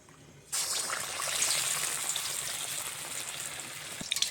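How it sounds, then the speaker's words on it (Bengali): A batter-coated chop drops into oil in a kadai over a low flame, and a close, broad bubbling hiss swells after a quiet start and holds steady, with a few clicks near the end. "এই যে আমি একটা করে ভেজে নিচ্ছি"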